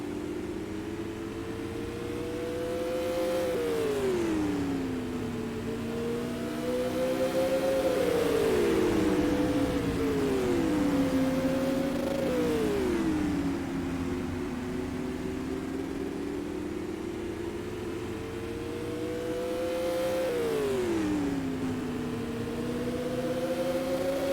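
Supermodified race cars roar around the oval at Oswego Speedway, their engines rising and falling in pitch as they sweep past one after another in loud, overlapping waves, with no talk over them.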